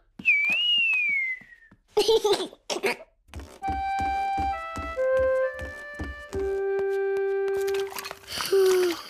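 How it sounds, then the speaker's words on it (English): A cartoon pig character whistles a gliding tune, then a cluster of short tonal blips and clicks, followed by a sustained sequence of bright whistled notes of varying pitch, ending in a burst of clattering effects. "George can whistle."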